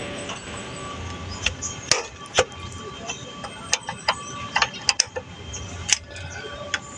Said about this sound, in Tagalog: imo siyang luwagan iyang banjo bolt na 14